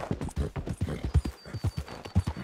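Steady clip-clop of horse hooves trotting at an even rhythm in Red Dead Redemption 2, close and fairly loud, with no voices.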